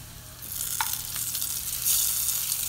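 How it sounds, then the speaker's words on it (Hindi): Fried onion tadka hits a pot of toor dal with a loud, close sizzle and crackle that swells after the pour and keeps hissing steadily, with no talking. "ये देखिए प्याज जो है वो लाल हो चुकी है, अब मैं इसमें डाल दूँगी, तड़का दूँगी।"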